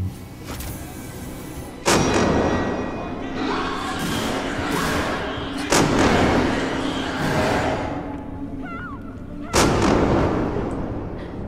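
Gunfire in the video game Alien Isolation: several loud, booming shots with reverberant tails ring out at irregular intervals over a steady rumbling game ambience.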